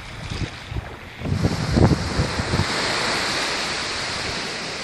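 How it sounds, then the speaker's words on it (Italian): Sea waves and wind on the coast of Lofoten, Norway: a broad, continuous roar of surf and gusting wind, with rougher, choppier splashes early on that settle into a steady wash. "questo è il mare dell'Elofoten è bellissimo"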